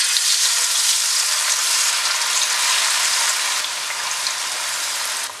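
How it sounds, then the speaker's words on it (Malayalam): Fish sizzles and crackles steadily in hot oil, being fried for a Kerala-style fish pickle; a loud, close, continuous hiss with no talking. "ബാക്കിയുള്ള മീൻ നമുക്ക് ഫ്രൈ ചെയ്തെടുക്കാം"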